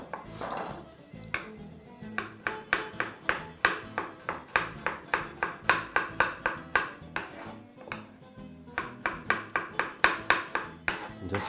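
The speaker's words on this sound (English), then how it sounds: "I'm just going to chop the apple as we did for the first one for all 3 pieces" A knife chops an apple into thin slices on a cutting board, with crisp, evenly spaced strokes landing in a fast, steady rhythm close by for the whole stretch, broken only by a couple of brief pauses.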